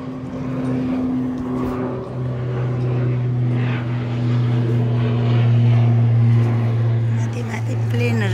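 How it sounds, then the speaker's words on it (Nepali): Propeller airplanes pass overhead near an airport on a hot sunny day in Kathmandu, a loud continuous droning engine hum that swells and fades slightly, heard from a garden with no talk. "माथि प्लेनहरू हिँड्दैछ।"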